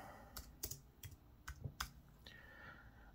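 Keys on a computer keyboard are tapped in an irregular run of about eight quiet, close clicks, with brief pauses between them and no voices.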